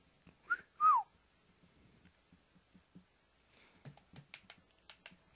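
A short two-note whistle rings out in L.A. Noire, close and clear near the start, followed by quiet pauses and a few soft taps and footsteps-like clicks.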